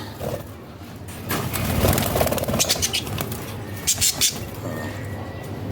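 Soft cooing and chirps of pet birds being fed, among rustling and a bit of wing flapping, with faint background voices; close and moderately loud.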